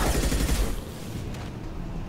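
Rapid automatic gunfire from a weapon in Mass Effect 2 rattles loud and close at first, then trails off into a rumbling decay.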